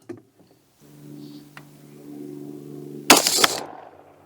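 A single sharp gunshot is fired at a self-healing target, a loud burst with a brief rattling tail arriving after a low steady hum and a faint tick.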